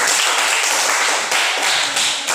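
Sustained applause from a classroom audience during a practice teaching session fills the whole stretch as a dense, loud wash of many hands clapping together, swelling slightly in waves with no talk over it.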